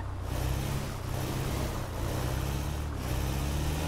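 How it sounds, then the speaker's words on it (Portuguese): A car drives in GTA 5 roleplay, a steady loud engine drone with low rumble that runs unbroken for a few seconds. "Houve um barulho de carro aqui, velho."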